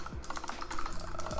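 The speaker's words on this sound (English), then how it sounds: "right here we're gonna type a description of the item" Quick clicking keystrokes on a computer keyboard, a brisk irregular run of light taps heard close and fairly quiet.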